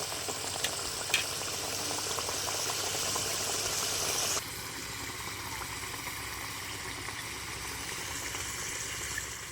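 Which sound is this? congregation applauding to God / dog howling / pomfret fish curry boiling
pomfret fish curry boiling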